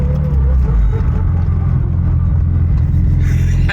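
A Mitsubishi Evo rumbles up close with a loud, steady low engine drone, rolling in through an opened gate at a friend's place.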